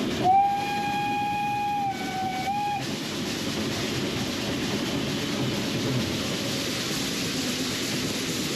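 A steam locomotive on the Kent and East Sussex Railway sounds its whistle in two bursts, a long clear tone and a short one, then the train's chuffing and rolling noise carries on steadily.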